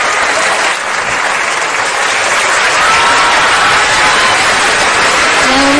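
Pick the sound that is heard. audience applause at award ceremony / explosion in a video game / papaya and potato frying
audience applause at award ceremony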